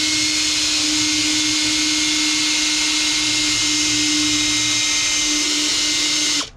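A cordless drill with a polishing pad buffs a yellowed car headlight lens, making a loud, steady, high-pitched whirring drone that holds for several seconds and then abruptly cuts off.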